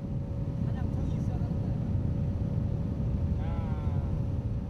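Steady low engine drone of a motorboat on the river at Dandong on the China–North Korea border, near the Broken Bridge, with rushing water and wind noise, close and constant, with a brief voice in the background.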